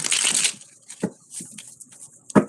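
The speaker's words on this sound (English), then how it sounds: "going to shuffle a little more aggressively here." Tarot cards being shuffled briskly: a long riffling burst, then a few shorter flicks and snaps, close by with no voices.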